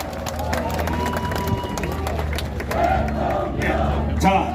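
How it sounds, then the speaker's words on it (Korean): Outdoor political campaign rally crowd cheering and shouting with scattered clapping, a dense mix of voices rising and falling, with a loud amplified voice heard through it. "다시 한번 큰 박수 부탁드리겠습니다"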